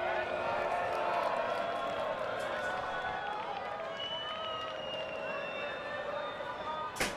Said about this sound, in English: the crowd certainly making their opinions very obvious